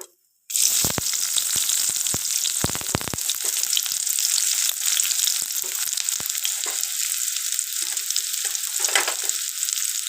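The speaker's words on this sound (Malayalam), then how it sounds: "ആ ചെറിയ ഉള്ളി ആദ്യം ഇടാം കേട്ടോ." Small onions (shallots) dropped into hot oil, with a sudden loud sizzle that bursts in and holds as a steady, close, crackling hiss, with a few stirring clatters early on and no voices.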